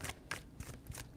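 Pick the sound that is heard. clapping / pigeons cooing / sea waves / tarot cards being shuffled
tarot cards being shuffled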